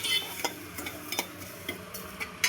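A spoon stirs lemon juice into a roasted mukhwas seed mixture, giving soft scraping and a light irregular rhythm of small clicks and taps.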